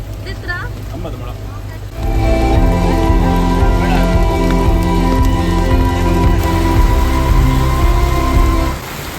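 Steady rain pours down near Kollur Mookambika Temple in Karnataka, a loud continuous hiss that starts abruptly after about two seconds and runs to the end, with a vehicle engine droning beneath it and people talking.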